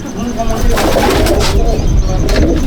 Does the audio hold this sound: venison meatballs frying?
no